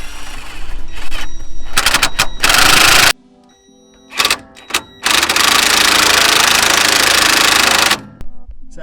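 Mechanical clanking and grinding while a jack raises a Toyota 80 series Land Cruiser during rear spring replacement, in loud bursts with a couple of short quiet gaps between them.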